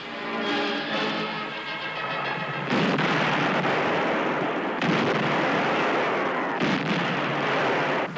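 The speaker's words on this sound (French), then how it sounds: "Schwere Artillerie und Werfer bereiten den Gegenstoß vor." Heavy artillery and rocket launchers fire in a wartime counterattack barrage, giving loud, dense rumbling booms and bursts. Several strong blasts cut through a continuous roar, with no talking.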